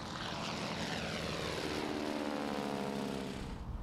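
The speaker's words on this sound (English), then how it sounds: "this tri-motor plane can still catch some air" A 1929 Ford Tri-Motor airplane in flight, its three propeller engines droning loud and steady with a throbbing rumble throughout, heard from close by with no talk.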